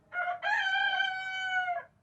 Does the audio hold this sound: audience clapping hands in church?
no